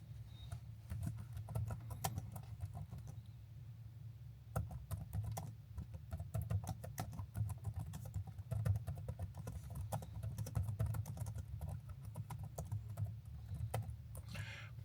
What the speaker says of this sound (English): let me write a reply.